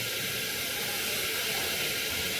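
Curry leaves hit hot oil already holding mustard seeds and chilli for a khichdi tempering, letting off a loud, continuous, close hissing sizzle.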